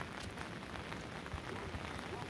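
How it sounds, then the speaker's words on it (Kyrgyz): Steady outdoor rainfall in a mountain pasture area where bulls stand, an even hiss of drops pattering on surfaces that runs continuously at moderate, fairly faint level with no talk over it. "жамгыр"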